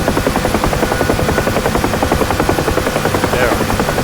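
A UH-1H Huey helicopter in the DCS flight simulator gives a loud, continuous, even thumping of rotor blades over a steady engine drone.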